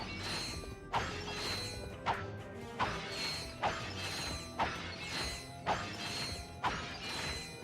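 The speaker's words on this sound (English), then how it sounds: "I'm gonna smash all of these lights for more bolts" Lights being smashed for bolts in Ratchet & Clank: Going Commando produce a regular series of sharp breaking impacts, roughly one each second, over a continuous whirring mechanical game background.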